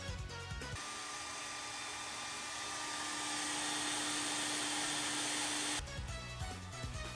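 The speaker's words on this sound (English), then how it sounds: "You can use a hairdryer to air fry food." A hair dryer used to heat food roars steadily at close range, a constant whooshing blow with a faint high whine, switching on and off abruptly.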